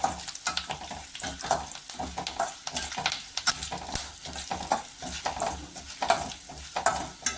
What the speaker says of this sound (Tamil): முந்திரி பருப்பு லேசாக வறுபடுற வரைக்கும் அதுக்கு சிம்மில் வச்சுட்டு அப்படியே வறுக்கலாம்